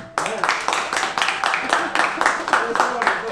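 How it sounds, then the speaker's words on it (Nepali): A group applauds at a school Children's Day celebration, a steady burst of many hands clapping close by for about three seconds, with a voice calling out over it. "ताली अनुपम सरको लागि ताली"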